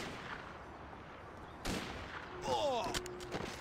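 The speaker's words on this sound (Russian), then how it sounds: "Кто где стреляет?" Distant gunfire in Mafia: The City of Lost Heaven, a couple of faint sharp reports over ambient game noise, followed by a brief whistling tone and louder clatter near the end.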